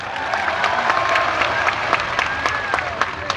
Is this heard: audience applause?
yes